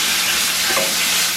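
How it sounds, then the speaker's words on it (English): Leftover cabbage and courgette salad fries in a pan, a steady close sizzle and hiss running the whole time with a faint stir partway through. "And the salad that I made yesterday, gonna fry it up. It's cabbage, courgette."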